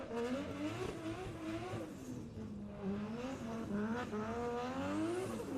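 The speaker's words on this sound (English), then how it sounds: "You can hear Kevin Quinn warming his tyres up." A drift car's engine revs and wails up and down in pitch while the tyres squeal as it warms them up at a British Drift Championship round at Teesside, the sound somewhat distant and steady throughout.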